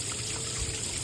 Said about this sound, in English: So we're filling up our water trough here.